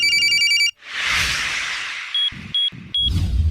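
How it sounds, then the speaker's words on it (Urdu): A mobile phone ringtone plays a short electronic melody, followed by a long whooshing swell and then a few sharp, evenly spaced electronic beeps, all loud and close. "اس میں اس کی موبائل کی گھنٹی بجی"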